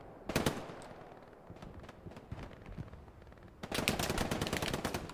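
Machine gun fire in the World War II video game Hell Let Loose, Hurtgen Forest map, loud rapid bursts: a short volley at the start, scattered distant shots, then a long sustained close burst.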